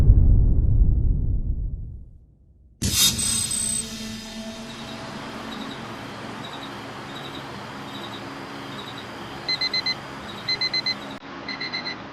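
An alarm clock goes off loudly after a brief quiet, ringing continuously with steady bright electronic tones and short repeated beep bursts near the end, in a barracks during Singapore Commandos basic military training.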